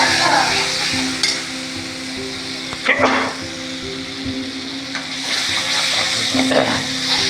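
Egg curry masala of roasted onion and garlic sizzles and fries in a pan while being stirred, with steady close frying hiss and a few louder scraping stirs throughout, no talk.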